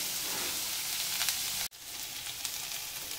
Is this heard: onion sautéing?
yes